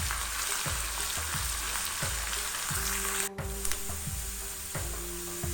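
Ingredients for a Kerala-style papaya pickle sauté in hot oil with a steady, close sizzle, broken by regular scraping strokes of a spoon stirring the pan; no one speaks.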